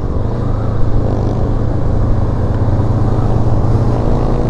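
A 2023 Honda CL500 Euro5 motorcycle rides through city traffic, its engine giving a steady, close, low rumble with no breaks.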